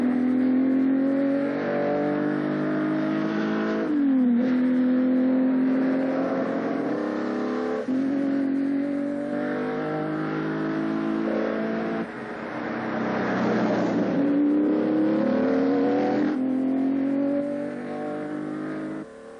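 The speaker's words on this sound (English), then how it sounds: "powered by one of the best engines of the era, that silk-smooth, light-alloy V12." A Ferrari Testarossa sports car with a light-alloy V12 engine drives past, its steady, smooth engine note rising and falling through several gear changes and accelerations, loud and close throughout with no talking.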